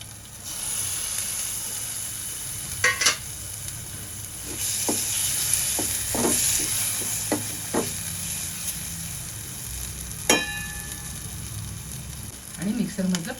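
Prawns dropped into sautéed ground masala for a village-style prawn curry, a low continuous sizzle with scattered clinks and scrapes of a spoon against the pan, close, with a brief rattle near the end.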